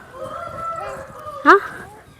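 A rooster crows in a farm garden where cocks are kept covered, giving a drawn-out harmonic call that ends in a sharp, louder squawk midway through, with faint background sounds.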